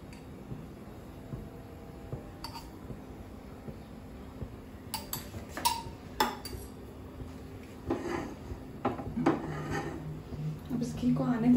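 A spoon scrapes and clinks against a cooking pot as Rajasthani kadhi with ghee is stirred, with scattered metallic taps growing louder toward the end over a steady low background.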